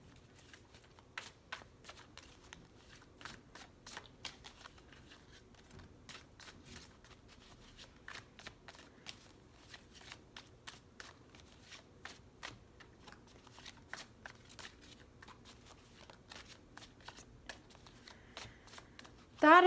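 Tarot cards shuffled by hand in a steady run of soft, quick riffles and slaps, close and fairly quiet, continuing alone for the whole stretch, with a brief louder noise at the very end.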